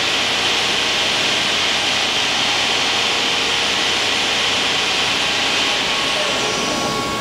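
A Mori Seiki DuraTurn 2550 CNC lathe spindle runs at about 2,000 RPM with belt noise, a loud, continuous whir and rushing hiss with a faint steady tonal whine.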